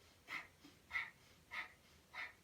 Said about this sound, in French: nous allons faire une respiration un peu plus courte